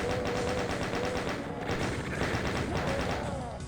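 Rapid repeated gunfire from a chaingunner enemy in DOOM, a steady stream of close shots running the whole time, with a voice talking over it.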